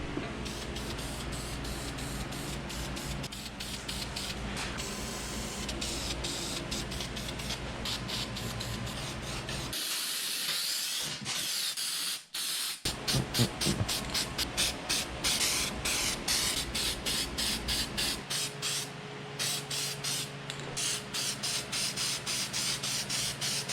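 Spray can hissing as a computer chassis is painted matte black, long close bursts of steady hiss broken by short pauses and a brief gap, then rapid repeated short sprays near the end.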